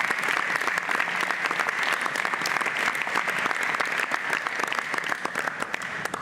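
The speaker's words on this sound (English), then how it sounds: "So please give them a round of applause" Vigorous applause at a spring graduation ceremony for parents, friends and supporters, a crowd clapping with crisp, rapid individual claps throughout, steady and loud for the whole stretch.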